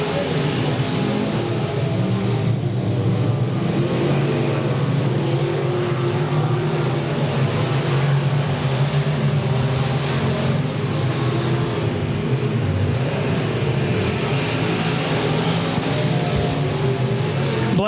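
Race cars at Golden Triangle Raceway Park, a constant loud roar of engines under a steady wash of crowd and track noise, with no clear breaks throughout.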